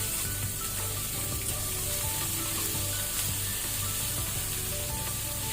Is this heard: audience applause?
no